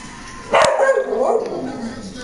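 A dog barks once sharply near the start, then gives a drawn-out whining yelp, close and fairly loud over a low background murmur.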